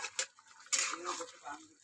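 A metal spoon stirs a pot of taro curry seasoned with roasted cumin powder, with a few close clinks and scrapes against the pot over a low background hum.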